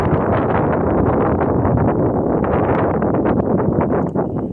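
Wind roars loudly and constantly against the microphone among trees on the Appalachian Trail near Chestnut Knob, a dense, unbroken rush that fills the whole stretch with no talking.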